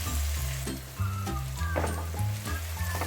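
Ginger garlic paste fries in hot oil for a stuffed karela and keema dish, giving a steady close sizzle with a few light stirring scrapes and no talking.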